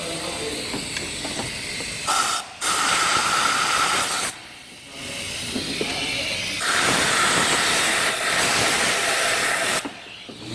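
Compressed air hisses out of a car engine's ignition coil hole while clearing antifreeze, loud steady blasts starting and stopping in several long bursts with short quiet gaps between them.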